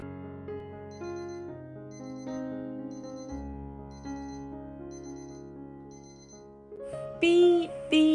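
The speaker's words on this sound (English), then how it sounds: "Beep, beep, the alarm went off." An electronic beeping melody rings out in repeated short bursts over a steady musical tone, ending with a brighter, louder chime.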